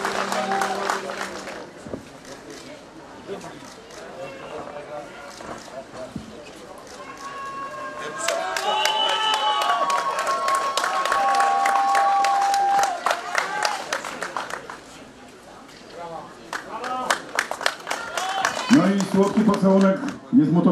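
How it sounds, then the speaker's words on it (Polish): Applause and crowd noise at a Polish fight night, Frenky Pawlak vs Wendell Roche, amid a trophy presentation: bursts of clapping and cheering swell and recede, with an announcer talking over much of it and music in the background. "Brawa, brawa drodzy Państwo, wielkie brawa"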